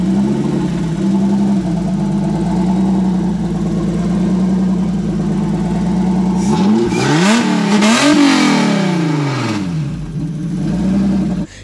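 A square-body VW Gol fitted with an Audi V6 engine idles with a steady, close rumble, then revs sharply upward and settles back down before returning to idle.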